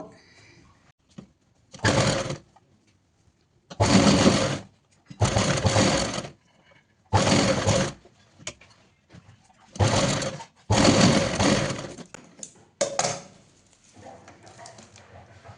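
A sewing machine stitches a homemade potli bag in seven distinct bursts of running motor and needle, each lasting one to two seconds, separated by near silence, with faint handling noises in between.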